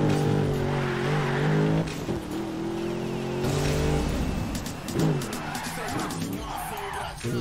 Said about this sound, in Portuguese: Olha lá, vou ligar o carro.